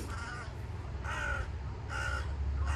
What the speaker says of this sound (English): Oh, you got the cutest crow!